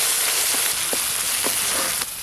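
Tomato, poppy seed paste and spices frying in a pan for a gourd kofta curry, a continuous close hiss and sizzle with a few soft stirring scrapes, no voices.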